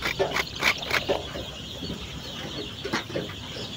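Poultry in a shed with rice-husk litter give short clucking calls in small bursts, several close together at the start and again near the end, against a quiet room background.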